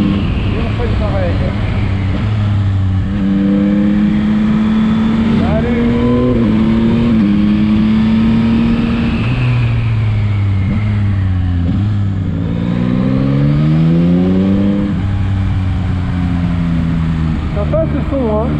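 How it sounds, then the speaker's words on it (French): Yamaha MT-09 motorcycle engine revving hard as it accelerates, its pitch climbing then dropping sharply at each quick-fire quickshifter gear change, loud and close throughout the run. "montrer cette petite accélération avec l'enchaînement du shifter"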